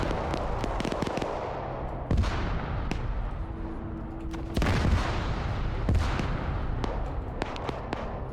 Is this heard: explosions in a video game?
yes